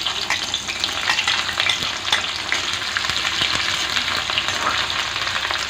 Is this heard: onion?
yes